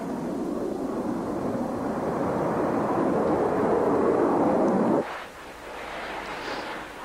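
A Saab Gripen military jet roars through a low-level air show display, a loud sustained broadband rumble that cuts off abruptly, followed by fainter wind-like noise.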